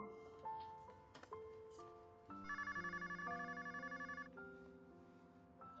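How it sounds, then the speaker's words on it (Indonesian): A telephone rings with an electronic ringtone melody: short tones step upward, then a sustained warbling ring pulses rapidly before easing off. It is fairly quiet and there is no talking. "Aku akan menjawab telepon dulu."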